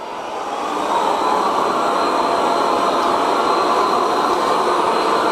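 A Viomi Alpha 2 Pro robot vacuum runs on its medium suction setting, giving a steady, fairly loud whirring hum that rises over the first second and then holds constant, with no talking.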